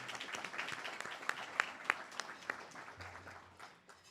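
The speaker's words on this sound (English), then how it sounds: "So please give him a round of applause." Faint, scattered clapping from the audience at an internal medicine residency graduation, with a few sharper individual claps standing out before it tapers off.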